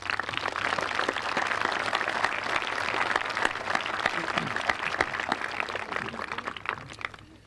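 Sustained applause from a high school graduation audience, dense steady clapping filling the hall throughout before tapering slightly at the end, with faint crowd murmur underneath.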